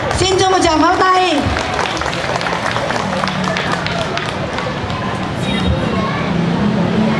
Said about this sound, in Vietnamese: Xin cho một tràng pháo tay.